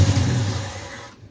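An MG Midget's small engine runs steadily after fuel finally reaches the line, a close, low rumble that holds for about a second and then fades out.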